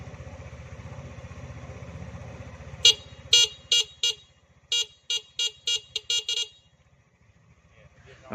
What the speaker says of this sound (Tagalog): napakalakas ng tunog ng busina